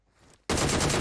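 Sudden loud burst of rapid gunfire in PUBG Mobile, erupting after a quiet moment and rattling on close and dense to the end.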